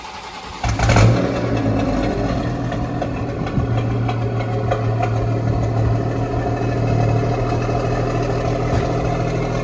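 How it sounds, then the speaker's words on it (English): A tuned six-speed BMW M240i fires up for the first time after tuning, with a sharp startup burst followed by a steady, loud idle that holds close and constant, with no talking. "here's a first startup. Let's see how it goes."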